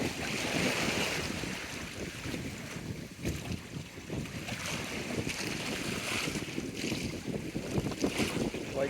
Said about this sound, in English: White capping slightly out there, probably blowing about 20 knots, something like that. Wind's building for sure.